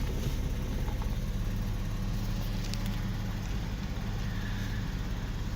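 A car's engine idling after starting, a low, steady rumble with a slight pulsing texture, moderately quiet and continuous, heard alone with no talk.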